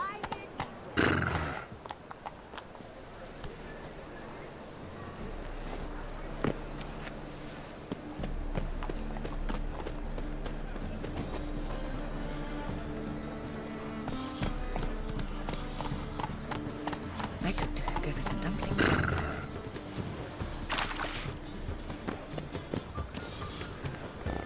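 Roach, a horse in The Witcher 3, clip-clops along at a trot with steady hoofbeats and lets out loud neighs and whinnies, set against game music.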